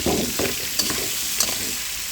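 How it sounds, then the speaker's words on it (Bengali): Potatoes frying in oil make a loud, close sizzle, with several quick stirring scrapes over the hiss. "আর এই যে ভাজাটা খুব সুন্দর করে ভেজে নেবো"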